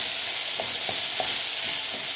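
Rice frying in a pan as a spoon stirs it, a dense steady sizzle with several soft, evenly spaced scraping strokes, close and continuous.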